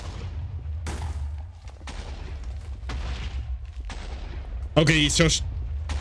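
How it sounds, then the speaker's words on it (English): Repeated explosions from Pulsar TNT in a Minecraft mod, a series of loud booming blasts roughly once a second, followed by a brief spoken phrase. "It is a bigger explosion many times, like the Pulse TnT."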